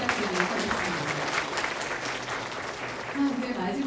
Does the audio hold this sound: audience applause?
yes